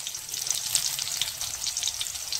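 Whole spices such as cinnamon, cloves, fennel and poppy seeds fry in a pan for coconut kulambu, a steady close sizzle with light crackles throughout.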